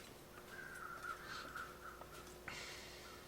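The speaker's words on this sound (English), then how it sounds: "More circling birds, though." Crows circling overhead in a snowy video game area caw repeatedly, a few harsh calls at moderate distance over a steady ambient hum.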